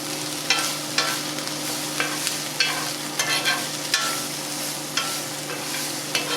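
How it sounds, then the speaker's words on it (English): Onions sizzle and caramelize in hot olive and avocado oil, a steady frying hiss with a faint hum beneath and a spoon scraping the pan at irregular moments, close and alone with no talking. "So we just want to get these onions kind of caramelized."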